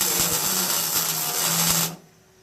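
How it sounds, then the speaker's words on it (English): A welder tacking a metal coat rack together gives a steady, loud buzzing crackle for about two seconds, with a few short pulses, then cuts off abruptly into quiet. "We got our welder back here. We're just going to kind of go willy-nilly and just kind of tack that right in place right there."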